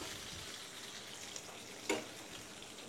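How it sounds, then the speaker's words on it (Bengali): Katla fish fries gently in a pan over low heat, a soft continuous sizzle with one brief scrape or flip partway through. "খুবই হালকা জালে মাছটা ভাজা হয়েছে"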